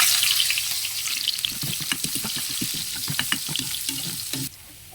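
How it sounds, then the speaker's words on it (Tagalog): Onion and ginger sauté in a pan, giving a loud, close, bright sizzle. Rhythmic stirring scrapes and soft clacks run through it before the sizzle suddenly drops away near the end. "Maggisa tayo ng sibuyas."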